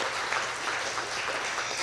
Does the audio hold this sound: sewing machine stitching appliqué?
no